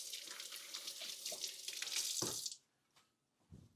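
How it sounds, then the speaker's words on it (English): Tap water gushes into a kitchen sink for about two and a half seconds while hands are rinsed during beef soup prep, then cuts off, leaving a few faint clunks and drips. "I gotta rinse my hand again."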